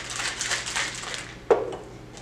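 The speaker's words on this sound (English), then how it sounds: "So you're going to put it in a shaker filled with ice, all three of your ingredients. Just give it a nice little shake." Ice rattling inside a cocktail shaker as an eggnog-style drink is mixed, a quick run of bright shaking clatter followed by one sharp knock, no talk.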